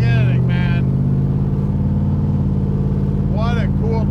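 A 1953 Ford F100 pickup restomod idles with a deep, steady V8-style rumble up close, while someone speaks briefly at the start and end.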